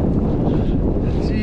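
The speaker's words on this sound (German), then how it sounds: "All die Böen mit 50 km/h haben jetzt wirklich angefangen" Strong gusts of around 50 km/h roar across the microphone while cycling in rain near water, a steady loud rushing buffet throughout.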